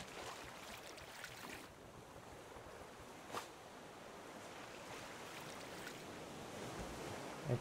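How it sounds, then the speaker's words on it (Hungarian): Rough sea waves wash and surge continuously with wind noise, a couple of louder breaking crashes standing out against the steady roar. "Megint kezd viharossá válni a tenger."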